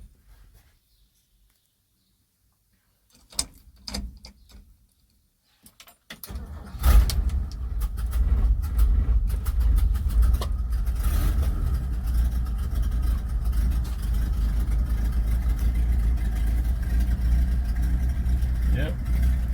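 A 1967 Chevrolet C20 pickup truck on choke cranks and starts, then settles into a steady, loud, deep idle. Keys jingle and a few soft clicks come first in near silence, and someone talks over the engine.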